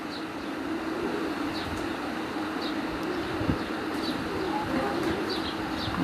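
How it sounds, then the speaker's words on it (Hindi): Female pigeons brought from Dubai coo softly on a rooftop, repeated low burbling calls over a steady background hum, with faint distant noise. "नसरुल्लाह ख़ान जो दुबई से लाए हैं ये कबूतरी"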